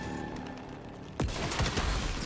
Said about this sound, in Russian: Я стреляю, да?